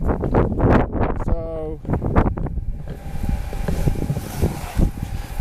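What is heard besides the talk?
wind blowing outdoors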